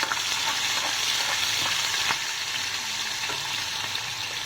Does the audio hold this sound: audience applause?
no